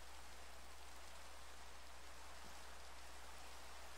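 Steady rain hisses continuously in the Minecraft-style game Zioncraft, an even wash of noise with a low hum underneath and no voices.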